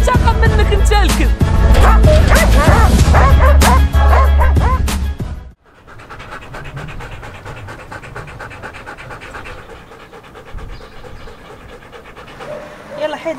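A dog barks and yelps loudly and close by, amid scratching and panting, while a person talks over it; the second half turns quieter.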